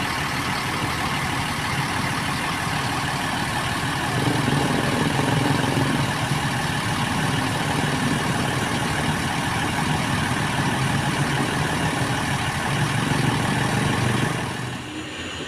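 The Sinar Dempo SD048 super executive bus, nicknamed Ikhlas, idles with a steady low diesel rumble close by, holding an even level throughout before dropping off slightly at the very end, with no talking.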